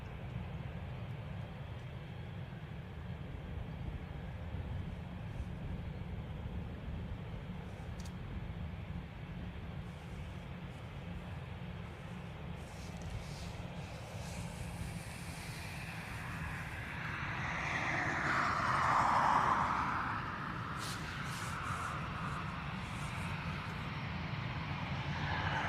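An ATR turboprop at Dublin Airport runs at a distance, a faint low engine drone under airport ambience that swells into a louder whine around the middle before settling again.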